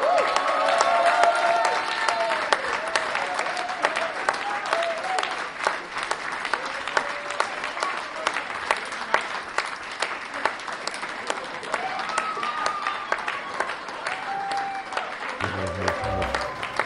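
A crowd at a midnight show at the 2019 SCOP event breaks into loud, sustained applause, a thick, even roar of clapping that runs unbroken for well over ten seconds.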